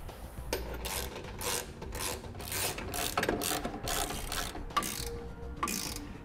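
Socket ratchet with an 18mm socket tightening bolts on nerf bar brackets of a 2016 GMC Sierra 1500 pickup: close, rapid bursts of clicking ratcheting strokes in an irregular rhythm, with no talk.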